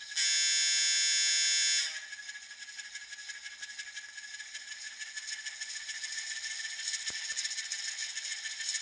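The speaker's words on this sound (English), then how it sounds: "Boy, that's like an old ship horn." An Atlas Gold Series N scale Alco S-2 model locomotive sounds a loud, sustained horn blast for about two seconds. A steady high-idle engine drone follows and runs on to the end, with a couple of faint clicks.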